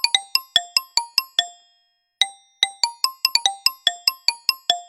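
The Apple iPhone Xylophone ringtone plays close and clear: bright, bell-like mallet notes in quick melodic runs, a short pause, then the pattern repeats, with no voices.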